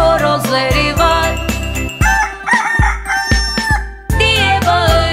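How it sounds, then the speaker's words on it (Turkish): A farmyard rooster crows, set among a bright children's song with layered music that carries on around it; the crow stands out clearly from the backing tune. "Çiftliğinde horozları var."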